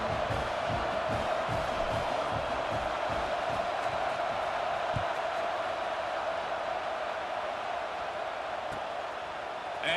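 Crowd at a college homecoming football game between OU and Penn State, a steady, broad stadium murmur filling the whole stretch with scattered faint shouts, no single loud cheer rising above it.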